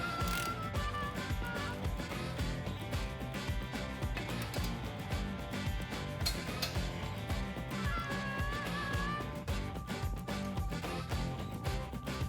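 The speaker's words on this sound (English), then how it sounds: "To tighten them up, we're going to need a 21mm socket, and we're actually going to torque these to 120 foot-pounds." A ratchet wrench with a 21mm socket tightens heavy-duty ball joint bolts on a Jeep Wrangler JK, giving a steady run of close, rapid mechanical clicks with brief pauses, with no talking.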